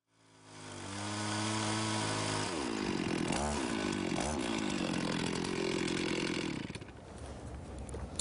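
A chainsaw starts up and revs, then bites into a log to cut a couple of inches off the end, its loud, close buzzing engine bogging and surging through the cut before easing off.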